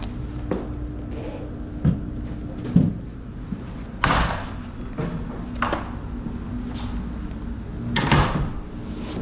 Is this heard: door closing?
yes